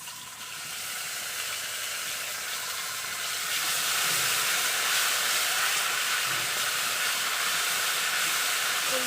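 Ginger-cumin paste hitting hot oil after panch phoron while cooking kochu saag with a fish head, a loud continuous sizzle that swells midway and holds steady.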